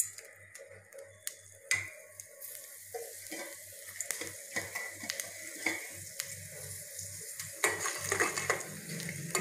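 Dal dropped into hot ghee in a kadhai, frying with a soft sizzle while a spoon clicks and scrapes in scattered taps, fairly quiet and close, with no one talking.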